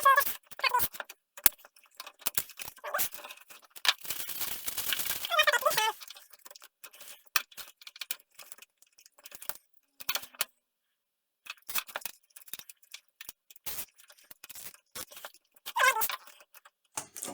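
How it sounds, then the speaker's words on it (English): Cable tie being replaced inside a computer case, a run of scattered clicks, ratcheting zips and plastic rattles close by, broken by short pauses and a near-silent gap midway. "I need to replace this cable tie."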